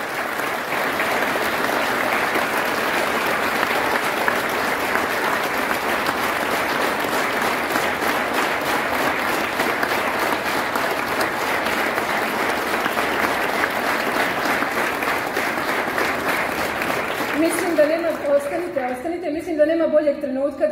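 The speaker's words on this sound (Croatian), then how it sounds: "a publiku da pozdravi velikim pljeskom" Audience applause at a 50th anniversary celebration of a brass band, sustained, loud clapping from a crowd that runs on evenly, with a few voices and brief tonal sounds emerging near the end.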